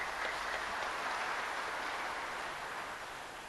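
Audience applause at an Indonesian government village-development event, a dense, steady patter of many hands clapping that holds loud and even for several seconds before easing slightly.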